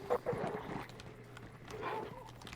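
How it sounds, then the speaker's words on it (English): Dogs in the video game Hunt: Showdown bark and yelp a short way off, two brief clusters of barking over a low steady game ambience. "Oh, shit, we got some dogs."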